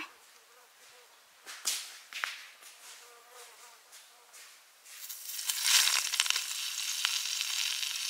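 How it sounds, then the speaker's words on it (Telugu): A tied chicken potlam packet dropped into hot oil in a kadai, quiet clinks and sharp handling taps at first, then a louder hissing sizzle rising and holding near the end. "కడాయి మళ్ళీ పొయ్యి మీద పెట్టి దాంట్లో కొద్దిగా నూనె పోసి ఆ కట్టిన పొట్లాన్ని నూనెలో పడేద్దాం"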